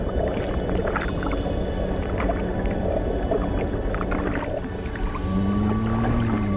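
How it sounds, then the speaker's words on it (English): Moray eels clash underwater amid a dense bed of crackling reef noise, with a low rising and falling tonal groan near the end, steady and moderately loud, with no talking. "Moray eels in disagreement."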